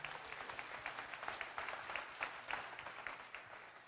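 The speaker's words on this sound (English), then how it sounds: "Give them a clap." A church congregation applauds during a Sunday service, giving steady, distant-sounding clapping from many hands with rhythmic peaks, faint and roomy.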